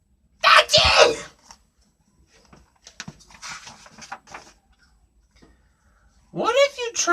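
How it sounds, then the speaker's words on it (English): A sneeze sound in a read-aloud of a children's story about pigs, a loud burst at the start, followed by quieter speech and a rising, voiced second outburst near the end; the sneezes appear to be performed by a reader's voice. "I can't stop sneezing."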